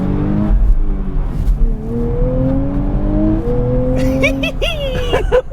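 A 2023 Nissan Z pulls away with a little wheel spin, its engine note rising steadily and loud, with a sharp tire-squeal and rev burst near the end.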